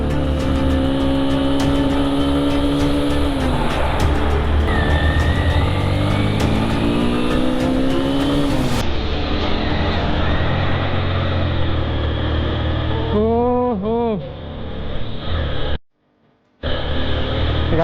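A car engine drones steadily and loudly as it strains up a steep hill road to Sajek Valley, Bangladesh, in rain, its pitch rising and falling as it labours, then cuts to near silence for a moment before resuming.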